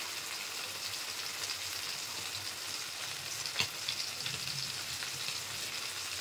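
Prawns fry in hot oil with a steady, close sizzle and light crackle throughout, one brief sharper pop near the middle, no voices.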